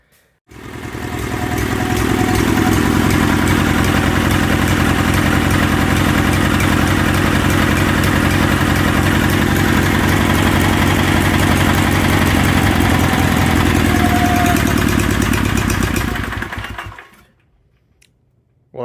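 A 1976 Sears SS18 garden tractor engine runs loud and steady close by, then abruptly cuts out and stalls near the end, leaving silence.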